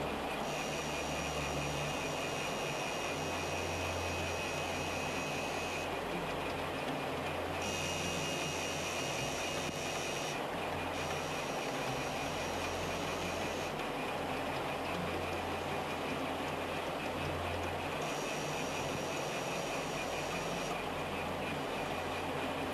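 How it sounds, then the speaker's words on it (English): A lathe turns the outside diameter of a workpiece with an EcoCut tool, giving a steady, moderately loud machining drone. A faint higher whine drops in and out at intervals. "Operation 3 is turning of the outside diameter."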